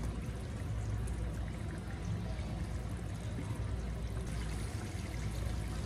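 Sauce poured over eggs in a pan for a Moroccan egg breakfast, a steady continuous pouring and sizzling wash that stays even throughout, close and fairly quiet with no talking.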